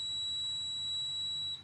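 Eddy current inspection instrument sounding its alarm on a defect during outer-diameter testing, a single sustained high electronic tone held steadily and close, cutting off abruptly near the end.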